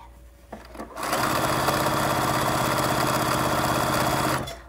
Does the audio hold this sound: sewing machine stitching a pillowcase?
yes